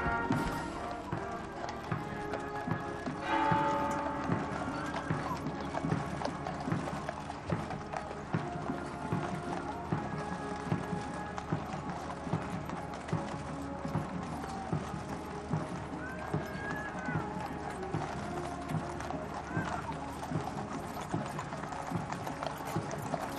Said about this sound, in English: Some of the horses, understandably, a little restless at this long, slow walk